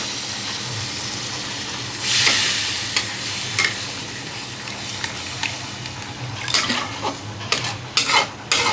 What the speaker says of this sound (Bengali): এবার দিয়ে দেওয়া হচ্ছে জল